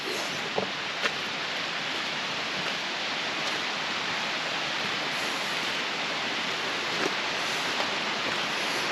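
Alberta Falls in Rocky Mountain National Park rushes in a steady, broadband roar of falling water, constant and moderately distant, with no voices over it.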